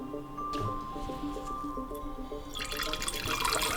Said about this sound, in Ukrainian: Оцет, щоб ні краплі не пролився, набираємо в шприц і змішуємо з водою